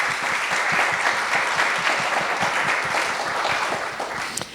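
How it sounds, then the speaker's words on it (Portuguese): Festival crowd applauding Jup do Bairro at Festival ZUM 2023, a dense, sustained round of clapping from many people that stays even throughout and tapers slightly at the close. "Palmas para a Jupe,"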